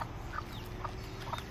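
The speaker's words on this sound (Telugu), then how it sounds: "ఇక్కడ చూడండి కోళ్ళు." Chickens clucking among trees at a guesthouse in Hawaii, giving a few faint, brief clucks spaced out over a steady outdoor background hum.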